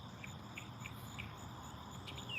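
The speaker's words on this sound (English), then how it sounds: "I hear crickets." Crickets chirping outdoors on a quiet morning, a steady high-pitched trill over soft low background rumble, with a few brief louder chirps spaced through it.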